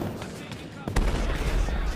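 Cannons fire in a toy soldier video game set in the American Revolution, with a sharp boom standing out near the middle over a busy, rumbling battle background.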